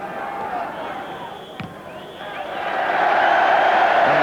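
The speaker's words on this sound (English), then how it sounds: "the crowd applaud a very good half" Football crowd at Southampton versus Liverpool applauding at half-time, a broad distant roar of clapping and cheering that swells toward the end.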